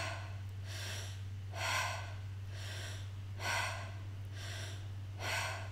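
Deep, slow breaths drawn and released through the mouth during a breathing exercise come as about five evenly spaced airy rushes close by, over a low steady hum, with no talking.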